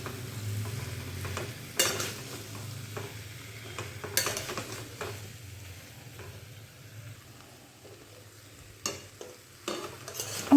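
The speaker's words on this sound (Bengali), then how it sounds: "আলুর সাথে একটু মশলাটা কষিয়ে নেব আমি এবারে।" Fried potatoes being stirred with spices in an oiled pan: a soft continuous sizzle broken by intermittent scraping strokes of a spoon, nearby and fairly quiet, with no talking.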